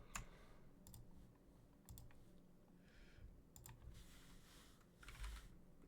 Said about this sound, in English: Forgive me for my very extremely loud keyboard.